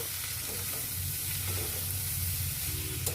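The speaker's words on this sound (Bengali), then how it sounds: "আমি বাঁধাকপিটা সবটাই দিয়ে দেবো তেলে তারপরে একটু নাড়াচাড়া করে নেব" Cabbage fries in hot oil with a dense, continuous sizzle, and a spoon stirring through it now and then, close and fairly loud, with no talking.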